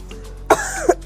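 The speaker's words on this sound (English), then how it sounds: "I've had this cough for more than 2 weeks." Two or three sharp, close coughs in quick succession from a persistent cough of over two weeks, with a short raspy throat sound between them; no talking.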